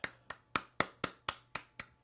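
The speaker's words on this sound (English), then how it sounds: "What happens if I clap?" Eight sharp hand claps in a steady, evenly spaced rhythm, close and fairly loud, with no talking.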